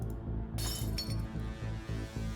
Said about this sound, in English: The window shatters.